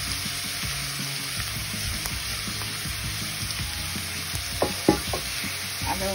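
Eggplant frying in a pan, a constant close sizzle with stirring scrapes throughout and a few louder clanks near the end, no voices.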